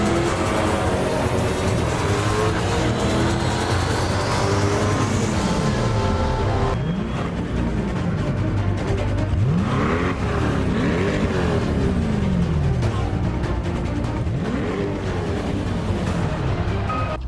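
The LT2 engine of a Chevrolet C8 Corvette blips through a series of sharp, free-revving throttle bursts, each rising and falling in quick succession, loud and close over a steady rumble with no voices.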